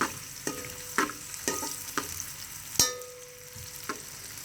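Onions fry in a pan until golden, a steady close sizzle punctuated by regular spoon strikes and scrapes roughly every half second, with no voices.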